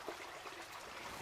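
Sonoma Creek flowing at Sugarloaf Ridge State Park, a soft, steady broadband rush of running water, faint and continuous with no voices.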